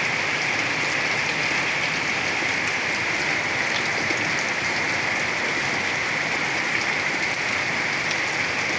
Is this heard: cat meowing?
no